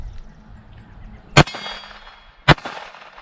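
An Aimwin PN330 fires at a metal silhouette target outdoors, producing two sharp, ringing metallic clangs about a second apart, each decaying briefly over faint background noise.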